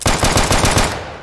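Fast automatic gunfire in a video game, a loud rapid string of about eight shots fired in quick rhythm, then cutting off and fading.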